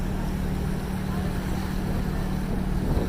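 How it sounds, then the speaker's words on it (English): Big diesel motors of a tour boat in Budapest run with a steady low rumble and hum beneath constant broadband wind and water wash, loud and unbroken throughout. "the big old diesel motors pumping away"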